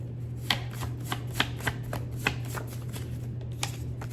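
Tarot cards are shuffled by hand in a quick series of soft riffling flicks and taps, close and fairly quiet, over a faint steady hum with no talking.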